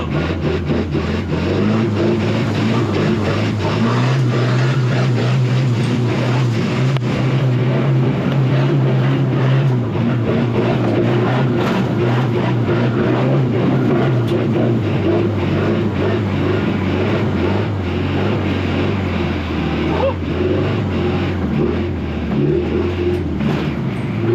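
A 1989 Daihatsu Taft GT off-road runs its engine under load, giving a loud, continuous, close rumble. The pitch swells as it is given more throttle in low gear, and no voices are heard.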